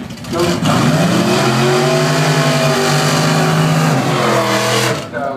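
A drag racing car, with a Corvette and a Nova racing, launches hard in a wheel stand at the strip, its engine roaring loud and near with a rising, sustained howl before cutting off.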